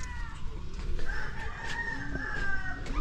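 Rooster crowing at a farm among breeder chickens, a drawn-out call rising over steady background clucking and barnyard noise, moderately close.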